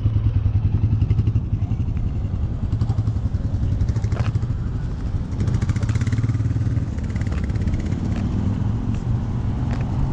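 A 2021 Royal Enfield Meteor 350 motorcycle idles and rides slowly during beginner practice, its steady single-cylinder thump close and continuous, with light mechanical clatter and a slight rise in revs.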